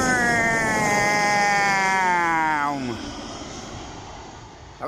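An Irish airliner passes overhead during plane spotting, its engine whine falling in pitch as it goes by and then fading into a softer, steady rush of noise.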